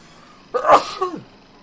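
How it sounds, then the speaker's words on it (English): A single close, loud human sneeze bursts out sharply with a quick inhale before it and a short trailing tail, standing alone against near silence. "A bit of a sneeze."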